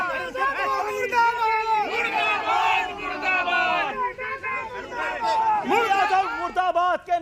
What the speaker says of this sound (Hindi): घर के बाहर कार्यकर्ताओं की नारेबाजी।